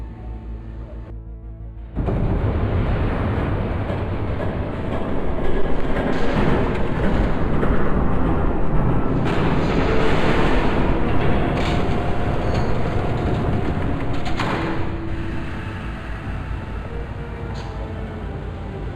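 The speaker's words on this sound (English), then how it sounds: "There's a train coming." A train passes by in Batman: The Telltale Series, a loud continuous rumble of rolling wagons that swells and holds, then gradually eases off.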